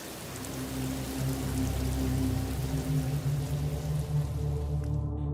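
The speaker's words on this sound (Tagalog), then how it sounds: "Napakalakas ng ulan." Heavy rain pours down in a steady, dense roar of drops on surfaces, loud and continuous without pause, with no voices.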